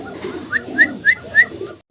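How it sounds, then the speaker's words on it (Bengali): A Maltese pigeon gives four short, evenly spaced coos close by, soft and rounded, over a quiet background murmur. "মাল্টেস কবুতর দেখতেছি আমরা এখানে"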